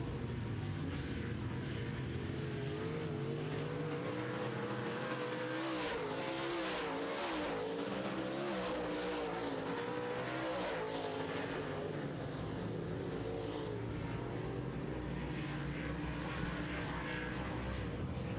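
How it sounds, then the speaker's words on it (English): Modified race cars at RRCS roar around the track in a dense, continuous engine drone that swells and fades as the pack passes, loud and sustained with no break. "Coming around turn number 4, it's your leader driving the 1R, Rick Delane."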